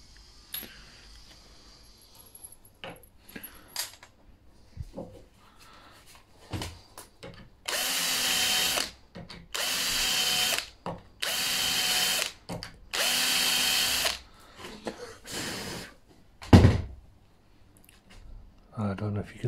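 A power drill drives hinge screws into a door frame while French doors are hung. It runs in four loud, steady bursts close to the microphone, with quieter handling clatter before and after and no voices.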